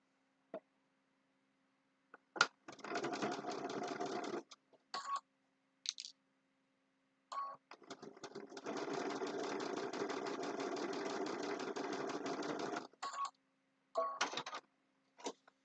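A sewing machine stitches a quilt block in two long runs of rapid, even mechanical whirring, separated by short pauses and a few brief clicks, close and clear in a quiet room.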